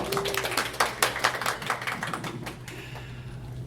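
A small audience at a tech conference session gives a brief round of applause, scattered claps fairly close and thinning out toward the end.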